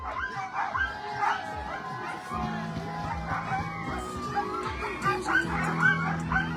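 Sled dogs bark, yip and whine excitedly in a dense chorus at the start of a stage of a sled dog race in Bernex, continuous and fairly close throughout.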